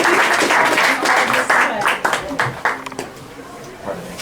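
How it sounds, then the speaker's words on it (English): An audience gives a short burst of applause for Nathan Brinkman at a parents' advocacy event. Loud clapping fades over a few seconds as a voice speaks over it. "So let's have a round of applause for Nathan Brinkman"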